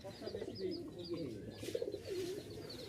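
A pair of Pakistani high-flying Giribaj pigeons coo softly and repeatedly close by, low burbling calls in an uneven rhythm, faint and unaccompanied by talk.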